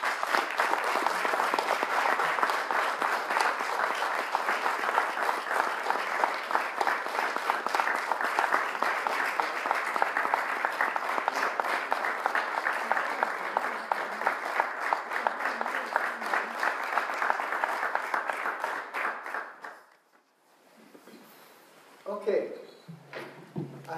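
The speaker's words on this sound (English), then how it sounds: "and accept our applause" Audience at a University of Houston alumni dinner claps steadily in a dense, sustained round of applause for about twenty seconds, then fades into quieter room noise.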